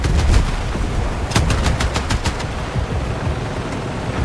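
Gunfire in the Battlefield 6 video game, a loud beach assault with continuous low rumbling explosions and a clear burst of rapid automatic shots in the middle, all under dense battle noise.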